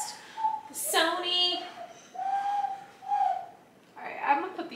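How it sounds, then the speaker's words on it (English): A man whistles a wavering, breathy melody indoors, tones rising and falling in short phrases with brief pauses between them, close and fairly loud. "My boyfriend loves to whistle."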